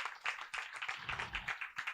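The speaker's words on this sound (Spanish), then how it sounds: "un aplauso a Cristo" Church congregation clapping during a Spanish-language sermon, a quiet, rapid patter of many hands spread over two seconds, somewhat distant and soft.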